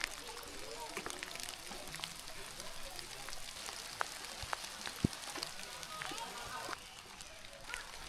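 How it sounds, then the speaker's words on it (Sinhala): Light rain patters along a railway track near a hill station some 5300 feet up among tea estates, a soft steady hiss with scattered drip ticks and faint voices in the background. "පොඩි වැස්සකුත් වැටෙනවා"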